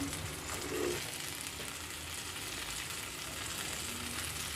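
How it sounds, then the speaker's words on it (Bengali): Tomato, onion and green chilli frying in a pan for a dried shrimp and eggplant curry, a soft, steady close sizzle with faint stirring and no voices. "একদম ভালো করে ভাজবো টমেটো আর পেঁয়াজটা পুরো নরম হয়ে গেছে এবার দিয়ে দিচ্ছি কাঁচা লঙ্কা"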